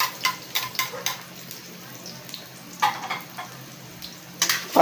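Garlic, onion and bay leaves frying in a pan for pork pastil, with a steady sizzle broken by repeated bursts of stirring and utensil scraping, close and clear.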